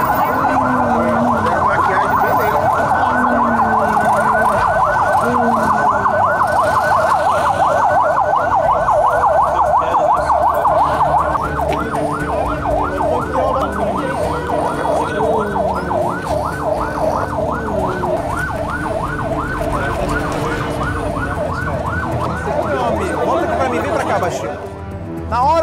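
A police siren wails loudly and close, first in a rapid warbling pattern, then switching to a faster yelp for the rest of the clip, with traffic rumble underneath.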